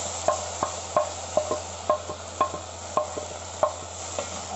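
Two tomatoes tipped into a pot of frying chicken and okra, then stirred: a steady scrape-and-knock rhythm of about a dozen spoon strokes over a soft sizzle, close and alone with no talk.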